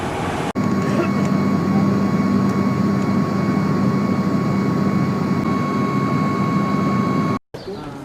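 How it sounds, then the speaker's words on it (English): A passenger airplane's engines drone steadily for the flight to Skardu, a loud constant roar with a fixed whine heard from inside the cabin, cutting off abruptly near the end. "now we're about to get on the airplane to head up to Skardu"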